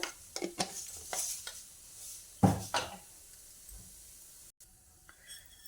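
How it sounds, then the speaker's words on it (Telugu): Cumin and mustard seeds drop into hot oil in a pan, giving short crackling sizzles and spoon stirring scrapes in uneven bursts, fairly close and quiet. "ఇప్పుడు నూనె వేడైనాక ఒక స్పూన్ జీలకర్ర స్పూన్ ఆవాలు"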